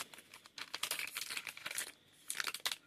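The plastic wrapper on a baseball card hobby box crinkles and rustles close up as it is cut open with scissors, in dense bursts with a brief pause partway through.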